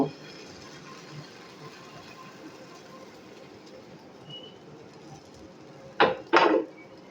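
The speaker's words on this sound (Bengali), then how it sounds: "আমি চামচ দিয়ে এক চামচ দিয়ে দিলাম একটুখানি ঘুরিয়ে নেব" Pitha batter is spooned into a pan and swirled, giving two quick metallic scrapes and clinks of a spoon near the end, close and distinct over a quiet kitchen hiss.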